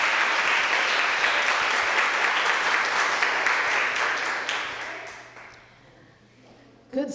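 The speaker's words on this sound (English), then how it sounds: "How about a nice round of applause for Dr. Joseph Kolkoski?" Audience applause at a Chestnut Hill College choir and jazz concert, steady dense clapping for about five seconds that fades out, followed by a brief sound at the end.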